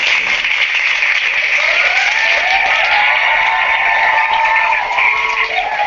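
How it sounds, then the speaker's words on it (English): A digital applause effect played during an online Rotary eClub meeting sounds as dense, steady clapping and cheering that holds at an even level for about six seconds. "this is how we digitally applaud"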